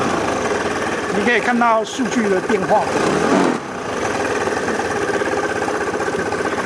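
A car engine revs as the throttle is opened during a diagnostic session with an RFecu Bluetooth tuning kit, giving a steady mid-pitched engine drone that rises with the throttle, with someone talking over it early on.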